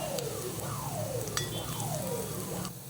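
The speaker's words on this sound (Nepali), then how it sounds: "मिडियम आँचमा म यसलाई एकैछिन भुट्दैछु।" Garlic, green chilli, onion and carrot frying in a pan over medium heat, a constant close sizzle and crackle with repeated metallic scrapes and clinks from stirring.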